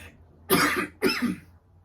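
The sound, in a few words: cough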